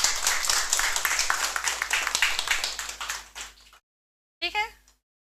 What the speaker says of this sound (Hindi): तो अपने लिए पहले जोरदार ताली बजाइए